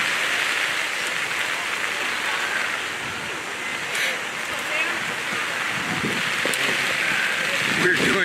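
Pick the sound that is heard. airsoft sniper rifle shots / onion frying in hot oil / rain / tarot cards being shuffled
rain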